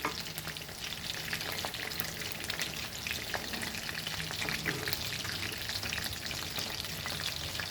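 Chicken lollipops deep frying in hot oil over a medium flame until golden, giving a steady, dense crackle and sizzle that runs close and unbroken throughout, with no voices.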